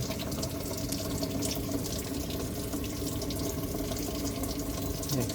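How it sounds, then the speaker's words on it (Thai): Water rushes forcefully into a Samsung inverter top-load washing machine under repair, a steady loud filling noise that carries on unbroken throughout with no talking. "น้ำก็เข้าแรง"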